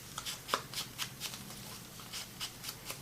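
Paper being folded and creased by hand while crafting a wallet pouch, a series of quick crisp rustles and snaps at an uneven pace, close and fairly quiet.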